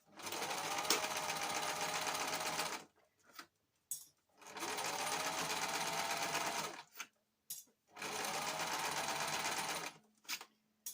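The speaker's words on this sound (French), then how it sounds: "Je vais faire sur une piqûre droite." A sewing machine running a straight stitch on a junk journal, three steady buzzing runs of a few seconds each with short pauses and small clicks between, close and fairly quiet, no talking.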